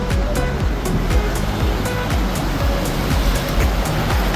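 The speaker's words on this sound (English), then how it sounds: "and that's the Arabian Sea." Waves of the Arabian Sea surge steadily against a rocky shore near a fort, a continuous loud wash of surf with repeated crashing pulses and no voices.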